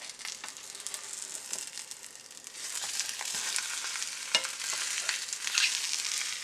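Kimchi pancake frying in a pan just after being flipped, a steady close sizzle and crackle with a few small ticks and taps.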